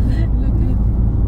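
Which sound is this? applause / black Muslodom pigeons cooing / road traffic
road traffic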